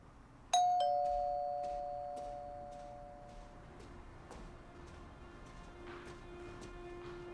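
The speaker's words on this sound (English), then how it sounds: "Lady, did you just ring my doorbell?" A doorbell chimes once with a bright ding that rings out and slowly decays, followed by a faint second tone, in a quiet indoor house with low background hiss.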